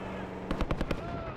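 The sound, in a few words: gunfire in Call of Duty Black Ops 6 video game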